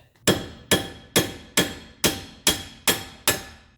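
A hammer strikes a bolt threaded into a hub to drive out the rear wheel hub bearing of a 2012 Subaru Impreza, eight loud, sharp metallic blows at an even, steady pace, close by.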